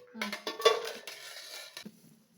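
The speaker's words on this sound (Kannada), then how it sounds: "ಈಗ ನೋಡಿ ದೊಡ್ಡ ಪಾತ್ರೆಗೆ ಹಾಕ್ತಾ ಇದ್ದೇನೆ" Pineapple and chilli pieces for a GSB-style sweet-spicy dish tipped into a big metal cooking vessel, giving a few close clattering knocks and scrapes of metal against metal, then tailing off.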